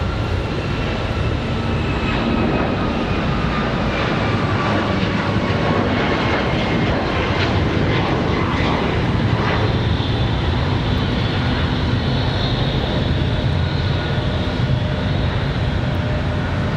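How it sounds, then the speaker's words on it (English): Boeing 737 MAX 9 jet airliner at Raleigh-Durham International Airport on a windy day, a loud, steady engine roar sustained throughout with no talk. "Getting this 737 back to Panama."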